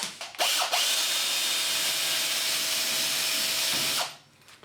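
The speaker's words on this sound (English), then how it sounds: "I'm now going to drill the rivets out." A power drill with an HSS bit whines steadily at high speed for several seconds, drilling out rivets on a Smeg kitchen extractor grease filter, loud and close, with brief bursts at the start and a spin-down at the end.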